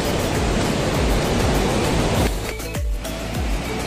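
Water gushes through the four open gates of the Kirandul dam as a dense, roaring rush, loud and continuous, then thins slightly near the end.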